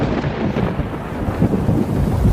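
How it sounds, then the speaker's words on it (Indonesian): Heavy rain pours down in an animated film, joined by a deep rolling rumble of thunder that swells and stays loud throughout. "Hujan-hujan, guys."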